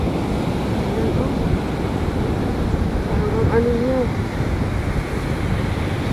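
Rough sea surf and steady wind on a beach, a continuous roar buffeting the microphone, with people talking briefly over it.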